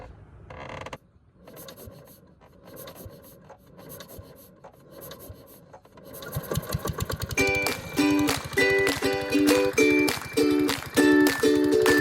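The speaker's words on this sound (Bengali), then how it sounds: "এখন আমরা মেশিন স্টার্ট দিয়ে বেরিয়ে যাব" A fishing boat's engine on a river fires up after a few quiet seconds of knocking and rasping, then runs loud and close with a steady, rhythmic chugging. No one speaks.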